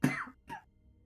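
A person with a lingering cough lets out two quick, close coughs, the first stronger and raspier, the second shorter and softer, with silence after.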